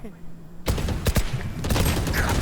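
Gunfire in the tactical shooter Valorant: after a quiet start, a rapid burst of loud shots erupts and continues as scattered cracks and rattling fire, with a voice speaking amid the shooting.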